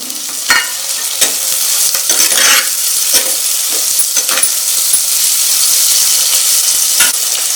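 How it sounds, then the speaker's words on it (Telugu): Onions and tomatoes frying in a hot pan, a loud continuous sizzle with repeated scraping stirs and utensil clinks against the metal, close up, no voices. "ఇందులో టమాటాలను కూడా వేసేసి రెండింటిని కలిపి వేడి చేయాలి"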